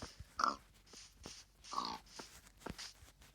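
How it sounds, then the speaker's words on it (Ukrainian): A few short, quiet pig grunts and oinks from a video game in separate bursts, with faint clicks between them and no talking. "Я вбив губка Бобу свиню"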